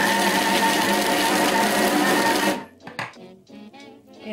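An electric chopper runs with a loud, steady whirring drone as it minces chicken pieces, then cuts off abruptly, leaving a few soft knocks and clatters.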